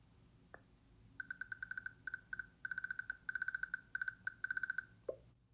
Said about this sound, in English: there's a new sound effect when you pick up and drag tasks around.